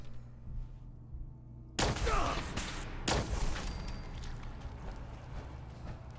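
Bursts of gunfire in the video game Fallout 4, two loud broadband volleys crackling in close succession with a lingering rumble between them.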